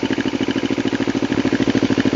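A carbureted Kawasaki Ninja 250 motorcycle engine idles close by, a quick, even, throbbing pulse that holds steady throughout.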